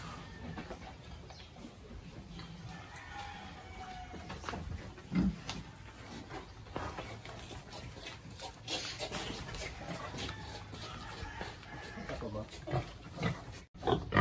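Pigs grunt in irregular bursts over a steady farmyard din, with a person talking throughout.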